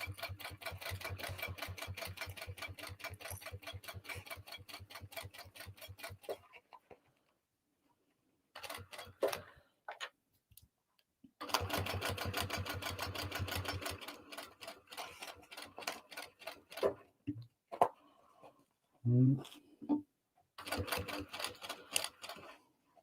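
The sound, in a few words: sewing machine stitching a bag seam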